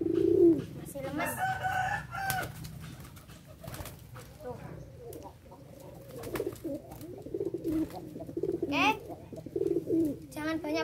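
Racing pigeons coo in repeated soft, throaty bursts while being trained, close by and fairly clear, with a person talking intermittently between and over the calls.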